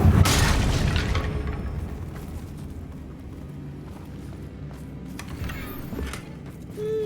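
A Confringo blasting spell in the video game Hogwarts Legacy, a loud boom at the start that decays into a rumbling fiery tail under game ambience, with a brief crackle near the end.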